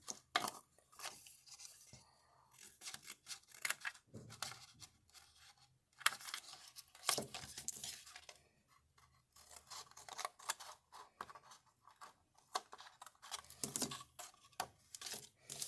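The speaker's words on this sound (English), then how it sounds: "I'm going to cut a little sliver off of this, just at an angle" Scissors snipping a thin sliver off paper or card at an angle for a decorative shoe-and-box craft, a close, quiet series of crisp irregular cuts and rustles with brief pauses.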